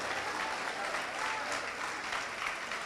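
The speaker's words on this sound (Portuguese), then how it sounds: "então aplaude ao Senhor" A church congregation claps for the Lord during a sermon, a dense, continuous burst of applause lasting about three seconds, with faint voices mixed into the crowd.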